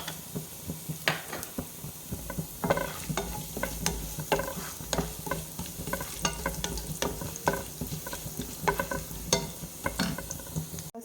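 Something frying in a pan while being stirred for rava pongal, with a soft sizzle under frequent scraping, tapping strokes of the spoon against the pan, fairly quiet and close.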